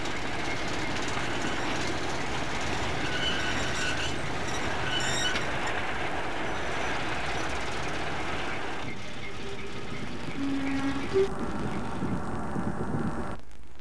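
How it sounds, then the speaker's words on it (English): Diesel shunter locomotive working as station pilot on a Merseyside railway, a steady rumbling engine drone with rail noise, a faint squeal and a brief clank near the end, heard at moderate distance. "A diesel shunter acted as station pilot."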